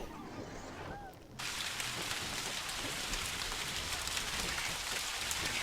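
Rain falls in the video game Ghost Master, starting abruptly after a brief quiet moment and then hissing as a steady, dense downpour.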